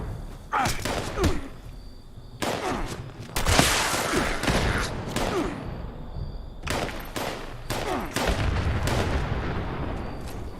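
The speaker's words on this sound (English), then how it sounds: "Shooting." Gunfire in the Fallout 76 video game: bursts of loud, sharp shots come in clusters across the stretch, with short pauses between volleys and no talking over them.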